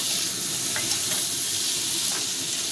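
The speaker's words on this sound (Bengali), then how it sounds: "আলু দিয়ে কষানো হয়ে গেছে, তেল ছেড়ে দিয়েছে।" Potatoes sautéing in released oil for a kajuri fish curry with potato and aubergine, giving a dense, steady sizzle up close, with faint stirring scrapes now and then.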